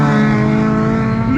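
A twin turbo race car at a Time Attack event at Anglesey, its engine a loud sustained drone with strong harmonics held steady through a drift, pitch rising slightly at the end.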